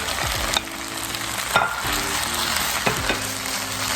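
Shrimp sizzle in a pan of fried rice, a continuous loud frying hiss broken by scraping stirs and clanks of a utensil against the pan.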